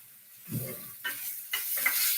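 Peri peri chicken frying in a pan and being stirred: a soft sizzle with a low thud of the utensil, then scraping strokes against the pan over a bright hiss.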